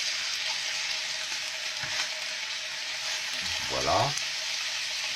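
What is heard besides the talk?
food browning in butter in a pan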